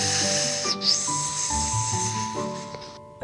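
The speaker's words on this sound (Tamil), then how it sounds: "ஸ்னேக் பாம்பு." A snake gives a steady, airy hiss that runs through the whole moment. It sits under sustained musical tones and fades out at the end.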